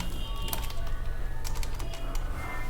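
Keys on a computer keyboard are typed in quick irregular bursts of clicks during a short Adobe Illustrator text edit, close and fairly clear over a steady low room hum, with no talking.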